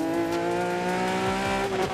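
A rally car engine in the Dirt Rally 2 racing game, a sequential gearbox with no clutch snapping through quick gear changes, the high revving drone rising and dipping with tire noise underneath, loud and continuous.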